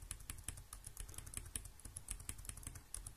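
Quick, light clicks of typing on a computer keyboard while working in a spreadsheet, a steady, faint run of key taps heard close up with no voices.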